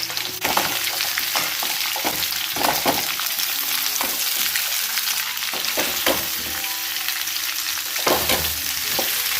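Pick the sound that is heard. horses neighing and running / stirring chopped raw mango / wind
stirring chopped raw mango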